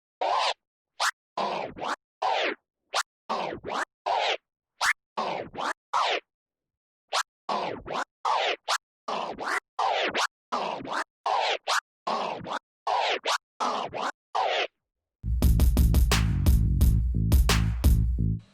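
A DJ scratches a record on a turntable, cutting the sound with one-click flare crossfader moves. Short choppy bursts come in quick repeated groups with brief gaps, then a sustained musical beat enters near the end. No one speaks.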